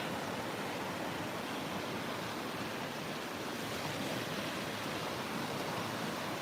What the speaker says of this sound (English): I could hear the waves crashing from the parking lot.